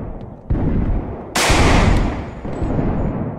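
Gunfire from the Project Zomboid survival game: a sharp shot near the half-second mark, then a louder, harsher burst with a decaying tail, followed by a smaller report, close and loud with no talking.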